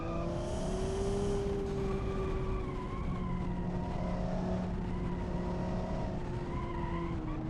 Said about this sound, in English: listen to that turbo noise